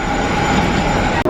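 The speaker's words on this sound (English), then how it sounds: "it's a pretty short train ride, but it was fun" Heritage train at Knott's Berry Farm rolling along, a loud, steady rumble of wheels on rails with a faint high squeal, close by, with a brief dropout near the end.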